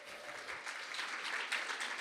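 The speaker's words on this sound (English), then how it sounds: "Can we give her another round of applause?" A workplace panel audience gives a short, even round of applause, a dense close wash of clapping with no voices over it.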